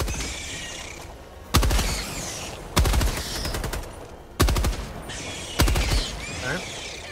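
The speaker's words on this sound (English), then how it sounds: "Machine gun's powerful, but it's so slow." Four loud bursts of machine gun fire from a co-op action video game, each a short rapid volley with sharp repeated cracks, separated by pauses over a steady background of game noise.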